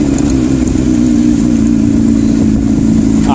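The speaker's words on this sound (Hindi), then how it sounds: "आज मैं होंडा CBR पे ऑफ रोडिंग भी सीख रहा हूँ ताकि मुझे ये लॉन्ग ट्रिप्स में काम आए।" A Honda CBR motorcycle ridden off-road on a rough red-earth track, its mid-pitched engine droning loud and steady throughout with a constant rumbling hum and no pauses.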